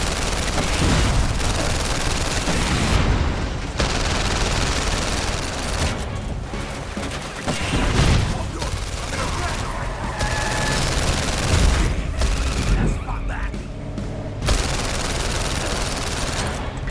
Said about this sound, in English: shooting in VR